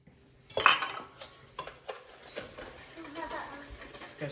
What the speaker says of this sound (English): Now we're gonna mix the sugars.